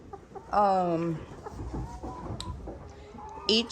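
Chickens on a small farm in Ghana cluck loudly inside a cramped coop, with one harmonic-rich call near the start and softer clucks and shuffling following, while a person speaks faintly in the background.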